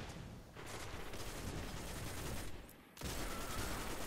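Continuous rapid game gunfire from the First Curse exotic hand cannon in Destiny, dense overlapping shots filling the clip with a brief dip before a loud resumption, no talk.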